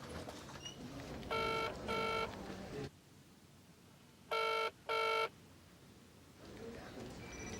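A telephone rings on an outgoing call from a GP practice to a hospital, sounding two double-ring bursts a few seconds apart, loud and close over quiet room background.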